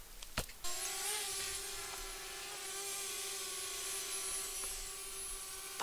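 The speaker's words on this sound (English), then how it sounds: "I'm going to send the drone up quick." A small drone taking off and hovering outdoors on a sunny day; after a couple of sharp clicks, a steady, high-pitched motor whine begins and holds at a fairly constant pitch nearby.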